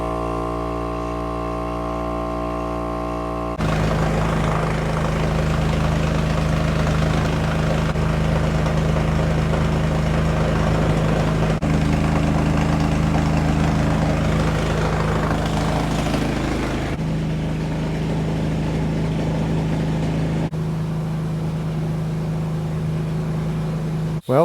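A 70-year-old Allis Chalmers road grader engine, left sitting for years, running at a steady idle, loud and close with a constant low hum and a few shifts in tone, heard alone.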